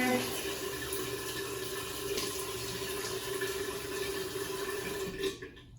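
Running tap water flows steadily into a sink with splashing as a face is rinsed, close by, before cutting off abruptly at the end.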